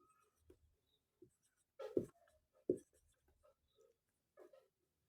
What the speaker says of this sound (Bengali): ধরো এইভাবে লিখছি